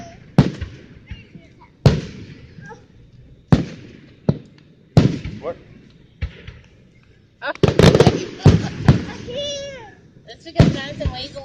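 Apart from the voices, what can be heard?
fireworks exploding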